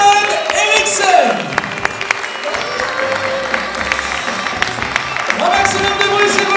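An audience at a comedy and circus show in Forges-les-Eaux applauds in a steady wash of clapping while an announcer's amplified voice speaks over it.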